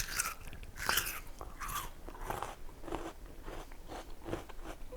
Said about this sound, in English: it's probably crazy to just eat one out of the can, but I'm gonna do it anyway, so y'all know what I'm talking about when I say the crunch